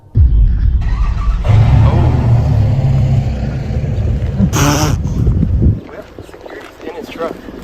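A truck engine rumbles close by as it drives toward a group at an abandoned place, a loud low roar that swells and cuts off, with a brief burst of noise and people talking over it.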